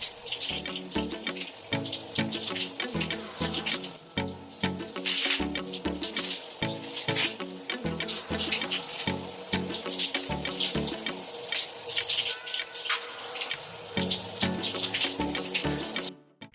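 Tap water runs steadily while shampoo is rinsed out of natural hair, a close, continuous splashing with irregular patters and drips as hands move through the stream.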